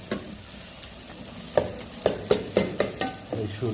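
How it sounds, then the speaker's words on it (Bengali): Onion and chili stirred in a hot pan at the start of a rohu fish and bottle gourd curry, with a run of sharp spatula scrapes and clinks over a low sizzle, the strokes growing louder and quicker toward the end. "পেঁয়াজ মরিচ একটু টালছি"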